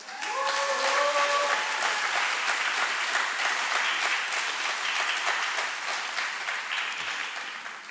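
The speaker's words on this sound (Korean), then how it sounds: "목사님 나오실 때 우리 박수와 환호하겠습니다." A church congregation applauds and cheers as the pastor comes forward at a festival worship service, with dense, steady clapping that holds for the whole stretch and a few raised voices whooping near the start.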